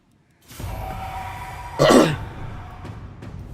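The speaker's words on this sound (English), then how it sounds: "Sorry, I just coughed at you." A single sharp cough bursts out close to the microphone, with faint low room noise before and after.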